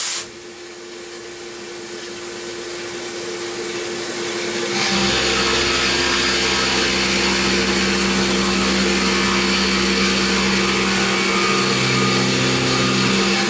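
A CNC mill spins at 4,000 RPM cutting a tool post riser block for a PM 1228 lathe, a steady loud whine with a hissing, rushing cut that grows denser and holds evenly, no voices.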